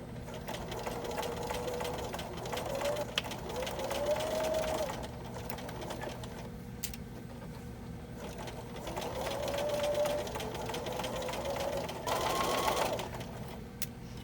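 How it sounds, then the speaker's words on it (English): A sewing machine stitching the fabric casing of a cover for a big ironing board, its motor whirring in steady runs that rise and pause, close and clear, with faint voice sounds in places. "I'll continue stitching all the way around and we'll be back after I finish"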